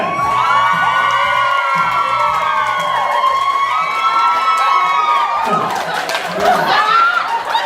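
A crowd at a wedding-party flash-mob dance battle cheers and shouts loudly for a girls' dance team, with high excited voices, whoops and laughter, plus a burst of louder cheering near the end.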